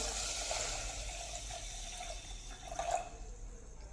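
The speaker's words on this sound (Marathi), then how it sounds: "आता यामध्ये साखर घालून घेऊया आणि जितकी साखर बुडेल तितकंच पाणी घालायचं आहे" Water being poured into a cooking pot of sugar, just enough to cover it for a syrup, giving a steady close trickle and splash with a slight swell near the end.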